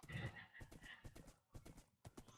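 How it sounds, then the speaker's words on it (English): Minecraft llamas heard as a run of hoof-like clip-clops and a whinny-like cry, fairly close and mixed with other game noise, with no talk. "it's just llamas"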